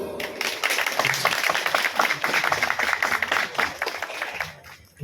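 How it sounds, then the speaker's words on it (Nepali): Guests at a wedding ceremony applaud together, a dense run of claps lasting several seconds at steady loudness before fading, with faint voices underneath. "हामी ताली बजाउँ।"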